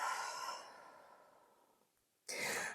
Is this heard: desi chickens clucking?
no